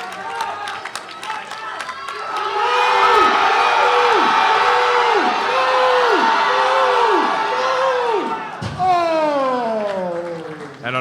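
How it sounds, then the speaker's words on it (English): Powerlifting competition crowd cheering and whooping loudly through a deadlift world record attempt, a sustained roar with rhythmic chanting pulses, then an announcer talking over it near the end. "The crowd on their feet."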